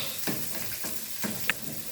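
Garlic sizzles in hot oil alongside white onion for chicken afritada, with a soft steady frying hiss and a few light stirring taps and clicks over two seconds.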